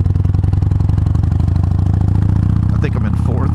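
Motorcycle cruising steadily in one gear over a gravel road, its engine giving a constant loud drone with a faint crunch and clatter beneath, the rider heard briefly near the end.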